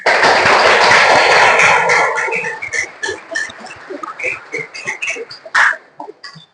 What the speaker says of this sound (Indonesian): Ibu minta tepuk tangan dulu buat semuanya.